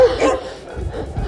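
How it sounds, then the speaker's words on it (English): Dogs in a street in Dahab, Sinai, give short barks and yips mixed with rumbling background noise, fairly near, while people chatter and laugh nearby. "There are a lot of dogs here."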